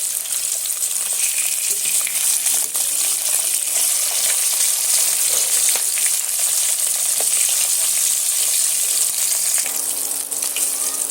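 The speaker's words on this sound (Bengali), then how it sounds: "এবার আমি অপর পিঠটা এইভাবে উল্টে দিয়ে সুন্দর করে একদম লাল লাল করে ভেজে নেব" Pieces of rohu fish frying in hot oil, a loud continuous close sizzle and crackle holding steady throughout with no voices.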